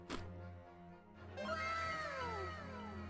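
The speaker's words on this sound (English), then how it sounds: "My cats." Several pet cats meow in drawn-out, wavering calls that follow a brief thump, loud and close, overlapping one another at a quiet indoor setting.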